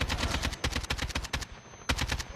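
Rapid automatic gunfire in a video game battle crackles in dense, loud bursts, with a brief gap before another volley.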